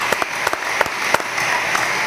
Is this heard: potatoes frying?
no